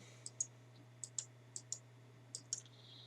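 Crisp plastic button presses on a TI-84 graphing calculator, about ten quiet clicks in small irregular clusters against a faint steady hum.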